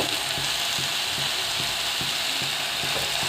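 Fenugreek leaves (methi) sauté in a pan for a Khandeshi-style dish, giving a steady hiss of frying broken by regular scraping stirs about twice a second.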